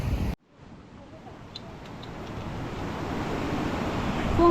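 A steady rushing roar of falling water that swells gradually louder, like a waterfall close by, with no talking.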